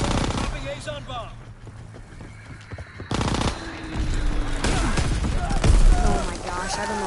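Call of Duty WW2 battle with rapid machine-gun bursts and repeated gunshots, heavy booming impacts from a strafing run, dense and loud throughout, with voices shouting underneath the combat.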